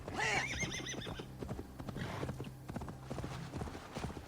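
Horse in Assassin's Creed Valhalla gives a loud, close whinny with rising and falling pitch, then a steady run of hoof clip-clops that continues to the end, with a brief voice in the background.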